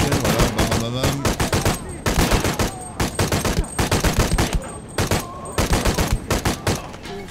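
Rifle gunfire in the video game Shadow of the Tomb Raider: loud, rapid bursts of shots fired in quick clusters with short gaps between volleys, continuing throughout.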